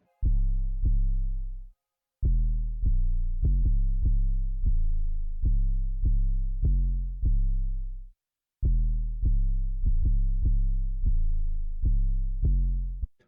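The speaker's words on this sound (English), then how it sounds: "swap from the distorted bass into this 808. I used the Gummo 808 from the Lunch Pierre kit." A Gummo 808 bass from the Lunch Pierre kit plays deep, booming sub-bass notes in a rhythmic pattern. Each hit has a sharp attack and a decaying tail. Two short gaps break the pattern, and nobody speaks.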